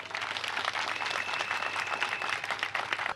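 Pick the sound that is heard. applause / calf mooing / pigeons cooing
applause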